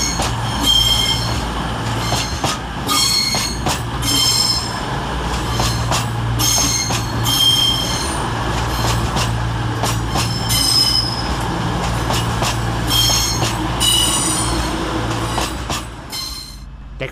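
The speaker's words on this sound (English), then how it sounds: "Next into the station is 220-008 and 220-016." Two Class 220 cross-country trains run into Wolverhampton railway station, with a steady low rumble, rhythmic clicking of wheels over rail joints and repeated high wheel squeals throughout, loud and close.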